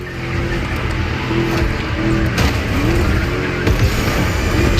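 Deep, rumbling V8 engine of an American muscle car racing in The Crew Motorfest, a steady loud drone with shifting revs and faint tire squeal throughout.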